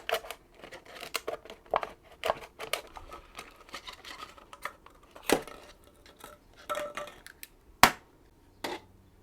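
Scissors cut a cup to make a beekeeping mite testing cup, giving a close series of sharp, irregular snips and crinkles with short quiet gaps between them and no voices.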